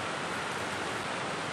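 Steady, dense broadband hiss of heavy rain pouring down continuously, loud and close, heard from beneath a bridge, with no voices.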